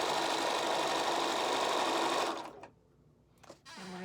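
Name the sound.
sewing machine stitching a quilt block seam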